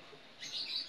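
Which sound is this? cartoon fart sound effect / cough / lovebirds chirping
lovebirds chirping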